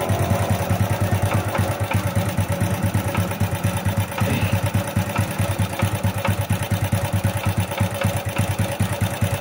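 Honda Wave Alpha 100 motorcycle engine running with a knocking connecting rod, a steady, fast, rhythmic ticking chug at even loudness throughout.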